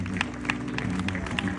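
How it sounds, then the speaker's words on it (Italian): An audience applauds to welcome a special grandfather at a grandparents' day celebration in Squinzano, with brisk, continuous clapping from a crowd, close and lively, and a few voices mixed in. "accogliamolo con un applauso"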